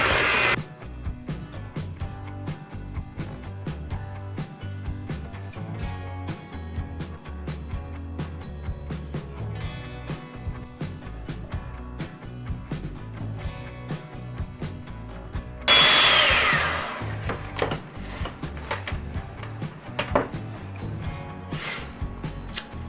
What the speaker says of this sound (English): Once again, let's take our mixer and we're gonna mix this all in together.